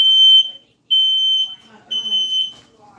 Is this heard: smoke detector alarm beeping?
yes